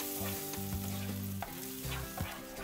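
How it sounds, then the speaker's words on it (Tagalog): Mushroom cream sauce thinned with water bubbles and simmers for a creamy chicken, mushroom and spinach dish, with a steady sizzle and a few soft stirring scrapes, close and quiet. "Haluin lang ng bahagya at isisimmer natin to for about 2 minutes"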